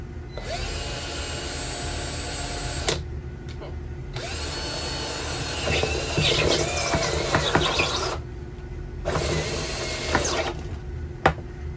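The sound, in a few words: drilling through a plastic container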